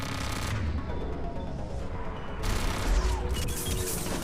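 Weapon fire in Mass Effect 3, a steady spray of rapid shots sustained across the whole stretch with a louder burst near the end, no voices over it.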